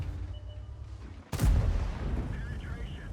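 A tank cannon fires once in World of Tanks, a single sharp loud blast with a booming rumble that trails off.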